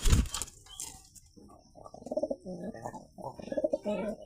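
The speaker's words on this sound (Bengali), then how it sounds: "এটা হচ্ছে গিরিবাজ কবুতর।" White Giribaz high-flyer pigeons, a pair kept at home, giving repeated low throaty coos in short bursts, close by, after a brief sharp rustle or wing flap at the start.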